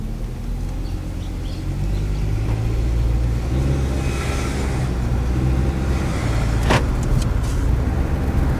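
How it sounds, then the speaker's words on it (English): A 2014 Dodge Journey driving on the road with a back tire a little low, with a steady engine and road rumble from inside the cabin and a slight rise in engine note as it accelerates. "It drives pretty good, you guys. The Dodge Journey."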